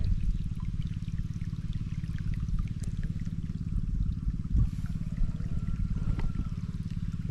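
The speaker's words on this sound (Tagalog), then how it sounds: "ganda nung daan ng tubig" Water runs quickly through an irrigation channel on a vegetable farm, a steady continuous rush and trickle throughout with no talk.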